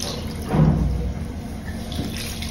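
Water runs steadily onto tangled curly pixie-cut hair, a soft continuous splash and trickle close by with a brief swell early on.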